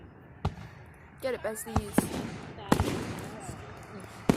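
Distant fireworks pop and thump in scattered single bursts, with people talking over them outdoors.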